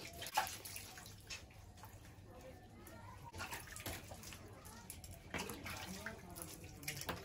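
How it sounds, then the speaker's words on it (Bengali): Vegetables are washed by hand in water, with splashing, swishing and dripping in uneven bursts close by, fairly quiet, and faint voices in the background. "সবজিগুলো সব ধুয়ে নেব।"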